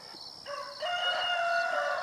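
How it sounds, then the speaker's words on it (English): Chickens and a rooster crow loudly and continuously at close range, with rising, sustained calls and no talking. "when I start talking, them chickens got to start"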